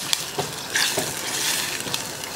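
Tomatoes cooking in a pot on a cooker for a Ghanaian garden egg and egg stew, giving a steady close sizzle with brief stirring scrapes and clinks, no talk.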